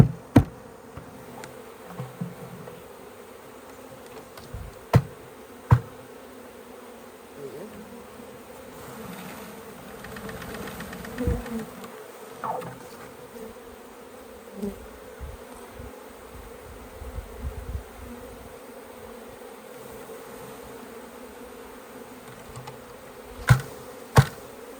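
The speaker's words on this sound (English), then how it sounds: "And these bees don't want to come out." A bee swarm caught from a bush buzzes inside a box, a low steady hum running throughout with a few sharp knocks and bumps scattered over it.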